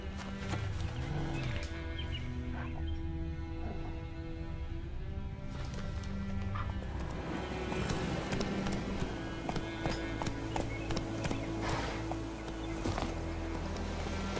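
Roach, a horse in The Witcher 3, gallops with a dense, fast hoofbeat rhythm under game music and ambience, a short spoken line near the start.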